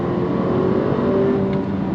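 The engine of a 2017 Infiniti QX30 Sport accelerates as the transmission kicks down, a steady droning rev heard from inside the moving car, fairly loud with no talking.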